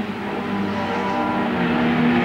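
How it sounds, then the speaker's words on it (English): 1980s speedway race cars roar around an oval track at Charlton Raceway, a dense, loud, sustained engine drone with no voices. "Wright goes right out wide, the sparks fly, just about lost the lead to Leifel there"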